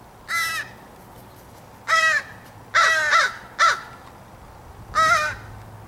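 A crow caws in five distinct bursts, loud and close, with the third and fourth coming in quick succession, over quiet outdoor background.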